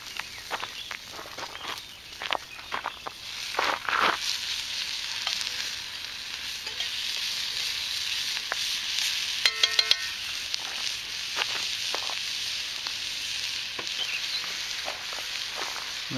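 Meat sizzles and fries in a cast iron pan over a campfire alongside softened peppers and onions, a steady close crackle broken by scraping stirs and clatters of a utensil.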